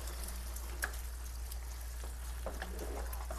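Shrimp sizzles in sauce in a pan, a soft steady frying hiss with faint bubbling pops over a low constant hum, with no speech.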